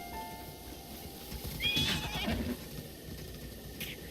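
A horse whinnies once in a Breath of the Wild field among other roaming horses, a rising, wavering neigh in the middle of the clip over a soft ambient background, with faint hoof movement and no talking.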